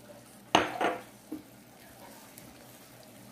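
Teriyaki chicken in a pan with a dash of sesame oil being stirred, with two sharp clinks of a utensil against the pan and a softer knock, then quiet background.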